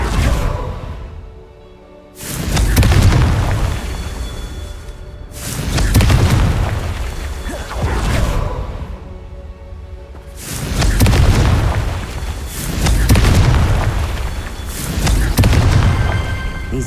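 Fire-spell blasts from the Hogwarts Legacy video game erupt in five loud booming explosions, each with a whooshing roar and decaying tail, spaced a few seconds apart.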